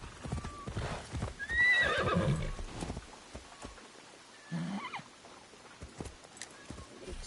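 A horse gallops and neighs in the video game Assassin's Creed Shadows. Rhythmic hoof clip-clops run throughout, and a loud whinny rises midway. A second, shorter call follows later, with no talking over it.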